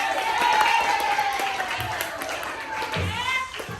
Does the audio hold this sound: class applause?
yes